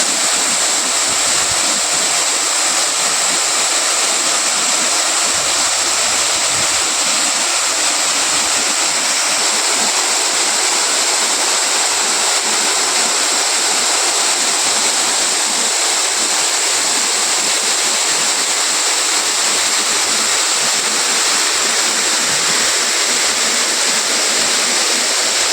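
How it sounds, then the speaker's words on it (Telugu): Bogatha waterfall in Telangana gushing with heavy flood water, a steady, dense roar of rushing water that stays loud and unbroken throughout, with no voices. "తెలంగాణ నయగర బోగోతా జలపాతంకు భారీగా వరద నీరు పొంగిపడుతున్న జలపాతం."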